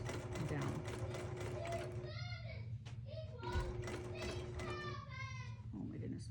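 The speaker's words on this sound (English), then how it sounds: "And now what I'm going to do is I'm going to baste it, right?" A sewing machine bastes a baby star quilt in slow, loose stitches, its mechanical whir starting and stopping in bursts while someone talks and a voice comes through nearby.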